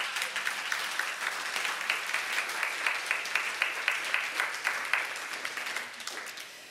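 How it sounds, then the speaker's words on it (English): Sustained audience applause after a call to clap for a guest at an on-stage talk, a dense, steady wash of many hands clapping at even loudness for several seconds before tapering off at the end, with no talk over it. "So can we give Jeremiah here a round of applause?"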